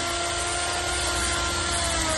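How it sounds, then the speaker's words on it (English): Garden trimmer running steadily outdoors at a house in Italy, a continuous motor drone at moderate distance with no pauses. "She is using the trimmer"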